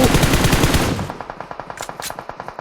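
Scoped gunfire cracks out in the mobile battle royale PUBG Mobile. A dense, rapid burst of automatic shots gives way to a steady string of distinct, evenly spaced shots that echo slightly, with no voices.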